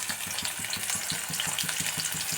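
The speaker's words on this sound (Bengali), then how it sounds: "একটু তেল দিয়ে আমি একটু কালো জিরে ফোড়ন দিলাম।" Black cumin seeds sizzling in hot oil in a pan over medium gas, a continuous bright crackling hiss with a soft rhythmic stirring or tapping underneath, close and steady.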